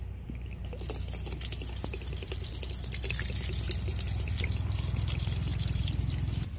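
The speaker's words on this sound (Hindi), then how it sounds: "मैं अभी इसको पानी देने वाला हूँ।" Water poured from above onto a plant while watering it outdoors, a steady close splashing and dripping trickle that runs continuously for several seconds, slightly building in strength.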